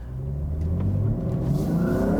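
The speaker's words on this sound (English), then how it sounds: "it fills the cabin with a visceral snarl of a straight six that you expect from BMW." Loud, close cabin snarl of a 2021 BMW M3 Competition's straight-six engine revving, the pitch climbing steadily as it accelerates, with no talking.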